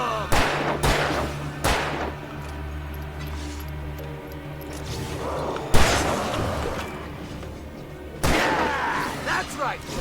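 Gunshots in the video game Alan Wake: loud, booming reports at irregular intervals, a few close together early and then two heavy blasts later, set over a low droning ambience with some intervening noise.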